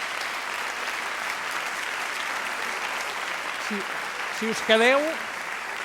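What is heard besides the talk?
audience applause for award winner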